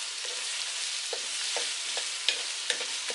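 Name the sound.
Dungeness crab stir-frying with onions in a pan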